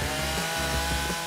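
A chainsaw runs steadily at a loud, constant pitch in one continuous drone, with no pauses and no voices.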